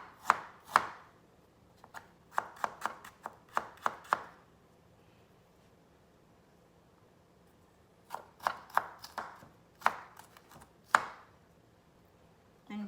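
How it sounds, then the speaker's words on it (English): Knife finely chopping ginger on a cutting board, quick clusters of crisp taps in rapid rhythm, separated by a quiet pause, close and fairly soft. "Just finely chop the ginger."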